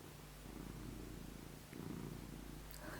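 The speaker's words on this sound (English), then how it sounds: "Can you hear him purring?" A pet cat purrs close up in a quiet room, a low rumbling, pulsing drone that swells and eases in time with its breaths, with no voices.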